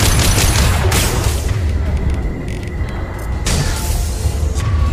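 Gunfire and explosions in the Mass Effect 2 video game, during Garrus's loyalty mission: loud, continuous booming rumble with dense crackling bursts throughout, heavy low-end impacts building and sustaining without pause.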